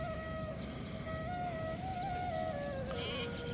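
A sustained, wavering bleat from Kathiawari sheep or goats rises over a steady outdoor rumble, fairly close and moderately loud.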